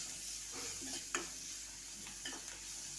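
Idli masala with tomato stirred in a pan, with a spoon scraping through the mixture in a few short strokes over a soft, steady sizzle.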